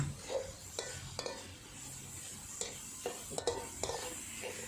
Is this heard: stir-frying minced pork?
yes